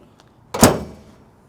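A car door on a 1965 Ford Mustang convertible with a 289 V8 swings shut with one solid, close thunk that fades quickly into near silence.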